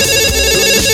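A telephone rings loudly and close by, one continuous electronic trill that fills the whole moment with no talking.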